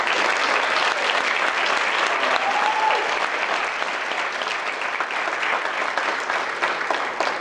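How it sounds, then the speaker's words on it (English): A room full of people applauds steadily, a dense, even clatter of clapping that holds at the same loudness throughout. "Let's give him a round of applause again."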